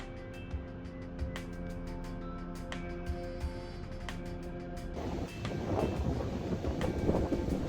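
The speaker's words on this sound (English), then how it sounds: "First it got windy" Gusty wind blowing across an open Colorado pasture as a storm moves in, steady buffeting rush on the microphone that grows stronger and rougher toward the end, with scattered clicks.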